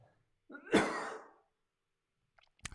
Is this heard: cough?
yes